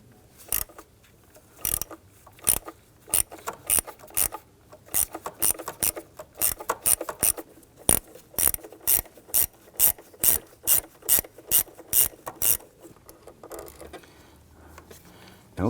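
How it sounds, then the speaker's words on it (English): Ratchet driving a T25 Torx bit to loosen screws on the throttle position sensor of a 1999-2004 Jeep Grand Cherokee, rapid close clicking bursts in a steady back-and-forth rhythm, alone without talk. "I'm going to go ahead and use a T25 Torx bit to go ahead, loosen and remove both of these screws."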